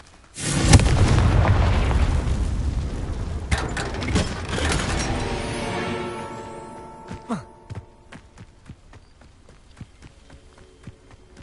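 A Confringo blasting spell explodes in Hogwarts Legacy with a loud, sudden boom and a rumbling tail lasting several seconds, then fades into scattered light clicks and crackles.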